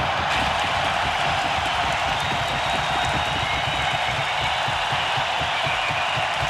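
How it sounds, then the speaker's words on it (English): A hockey arena crowd boos a former player, a steady, loud wall of massed voices that holds without a break throughout. "they must just be booing me because they wish I was still here."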